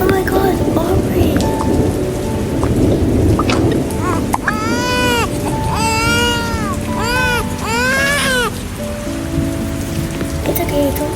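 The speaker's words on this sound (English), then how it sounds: "It's just a thunderstorm." Heavy thunderstorm rain roars steadily indoors at night, with thunder rumbling underneath, while a young child cries loudly for several seconds midway.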